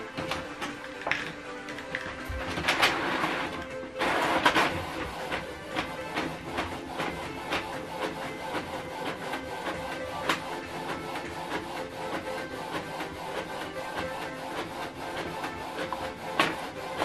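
A Canon TS5150 inkjet printer prints a document on A4 paper, a low whirring mechanism with repeated soft clicks and ticks and a couple of louder paper-feed surges, heard up close.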